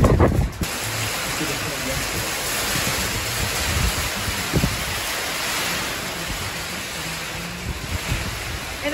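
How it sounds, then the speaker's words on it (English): Strong, roaring wind from a passing squall line storm buffets the microphone with a constant broadband rush, brief gusty bumps near the start and no clear speech. "it's going to be windy like this all night tonight and all day tomorrow"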